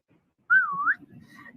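A person whistles one clear note that rises, dips and climbs again for about half a second, loud and close, followed by a low murmur of room noise.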